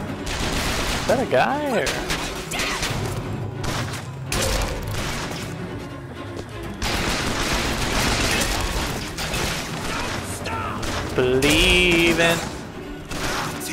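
Pistol gunfire in the video game Bioshock Infinite, with sharp shots and mechanical clatter mixed into dense game effects while someone talks over the action.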